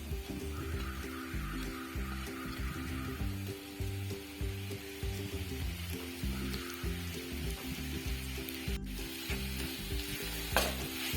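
Mashed sweet potato roasting in ghee in a pan gives a soft, continuous sizzle with a steady rhythmic scraping of stirring throughout, fairly quiet and close.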